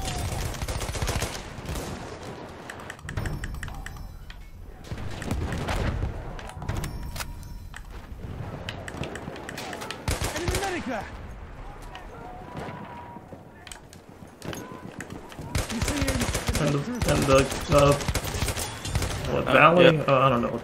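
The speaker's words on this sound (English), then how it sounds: "That's an enemy shot." Enemy gunfire in Battlefield 1 in the Argonne Forest: scattered rifle and machine-gun shots at varying distances, some near and sharp, others distant, under intermittent voice chat, growing denser toward the end.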